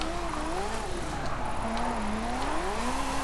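A Ferrari F40 Competizione sliding sideways in Forza Horizon 5, its engine note wavering up and down steadily through the drift, with a person talking over the game sound.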